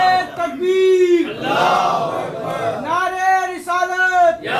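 A response to a Naara-e-Takbir call at a Muharram majlis, a large crowd bellowing a chant in unison: two loud, sustained collective shouts with a brief pause between them and a lead voice starting the call.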